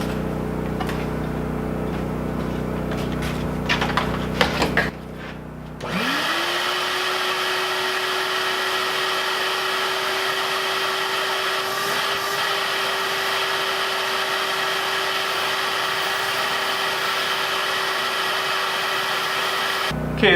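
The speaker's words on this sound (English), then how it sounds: "Now we just need to vacuum out all these spark plug holes because they're full of junk." A vacuum cleaner runs steadily up close while clearing debris from spark plug holes in an engine being prepped for installation, a sustained whining roar that briefly cuts out and restarts early on, then holds an even pitch.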